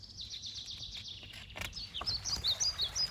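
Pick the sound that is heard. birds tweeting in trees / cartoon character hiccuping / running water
birds tweeting in trees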